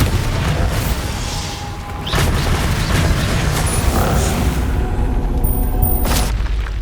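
Bombarda blasting spell from Hogwarts Legacy, heavy booming blasts with rumbling low end layered with game effects, loud and continuous, with a sharp burst near the middle and another bright crack toward the end.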